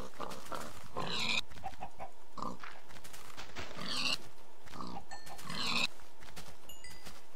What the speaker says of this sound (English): Oh, lots of pigs.